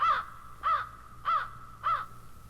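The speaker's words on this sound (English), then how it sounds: "The great black crow that never seemed to be far from her flew to the sill." A large black crow caws four times in an even, steady rhythm, each harsh call clear and close against a faint low background hum.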